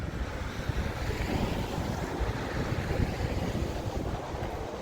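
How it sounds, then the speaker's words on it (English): A river rushes in a steady broadband wash near Taumarunui, the flowing water loud and continuous with some wind noise mixed in. "Got the river down here."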